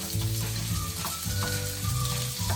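Onion sizzling in a hot pan while cooking chicken adobo, giving a dense, continuous hiss with a low hum underneath and a few faint scrapes.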